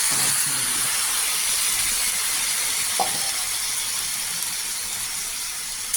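A ground paste of green chilli and dried chilli powder frying in a pan, a soft continuous hiss with faint sizzle and one brief scrape, close but low in level, without talk.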